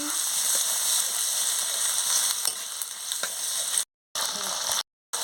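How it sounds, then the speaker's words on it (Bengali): Chopped onions go into hot oil and are stirred in a pan for chilli chicken, giving a loud, dense, continuous sizzle up close with two brief dropouts near the end. "পেঁয়াজগুলো কাটা ছিল সেগুলো এক এক করে দিয়ে দিচ্ছি। ভালো করে নাড়িয়ে নিচ্ছি।"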